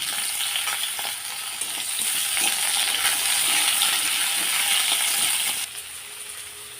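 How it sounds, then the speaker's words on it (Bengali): Papaya and potato pieces frying together in a pan, a loud, dense sizzle that swells in the middle and drops off sharply near the end, with light stirring scrapes. "এবার পেঁপে আর আলুটা একসাথে ভেজে নেব"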